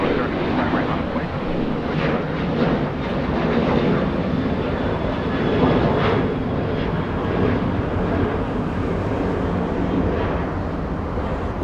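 An American Airlines 737 bound for San Antonio takes off at Los Angeles International Airport, its engines a broad, steady roar that holds constant for about twelve seconds, with a voice talking over it.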